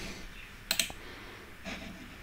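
Keystrokes on a computer keyboard while typing a search for a game on a Windows 11 PC, a short burst of a few close clicks, then a softer tap later, fairly quiet with no talking.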